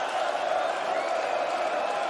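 Darts crowd in Belgium at the final between Luke Littler and Rob Cross, a steady, dense roar of cheering and noise filling the hall without a break, loud and continuous.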